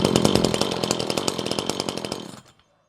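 A chainsaw running hard with a loud, rapid two-stroke buzz at close range, held steady for about two seconds before cutting out abruptly into silence.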